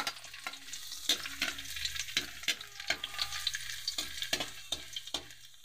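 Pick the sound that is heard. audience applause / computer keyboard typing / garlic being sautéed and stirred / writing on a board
garlic being sautéed and stirred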